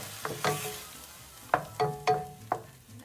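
Sauce simmers gently in a Spanish stir fry pan over reduced heat, with a soft sizzle broken by several sharp clinks and scrapes of a utensil against the pan.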